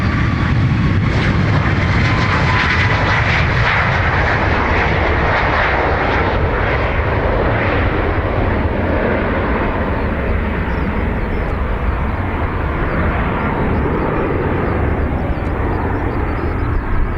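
An airliner takes off from runway 28 right at Dublin Airport, its engine roar loud, close and steady throughout, a broad rumbling wash that slowly loses its highest hiss as the aircraft pulls away.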